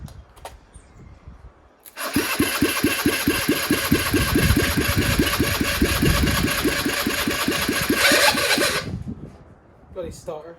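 A GY6 scooter engine swapped into a Chinese 50cc scooter is cranked by its starter, catches and runs with a loud, close, rapid putter for about seven seconds before shutting off, a voice audible around it.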